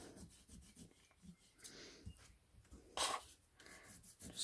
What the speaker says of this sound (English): Just gently rub it over.